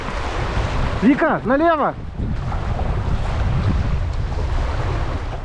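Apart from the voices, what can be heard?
powerful river rapids under a boat on the Koyva river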